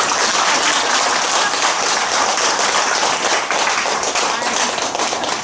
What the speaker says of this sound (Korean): 아니 그땐 박수를 쳐야지.